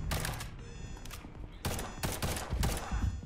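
Rapid gunfire in the Liberated video game, dense bursts of loud close shots in quick clusters with brief gaps between volleys.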